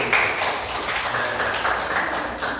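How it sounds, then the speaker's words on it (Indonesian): Classroom applause for a student group after their presentation in an Islamic religious studies lesson, a steady crackling patter of many hands with faint voices underneath. "tepuk tangan untuk kelompok 1"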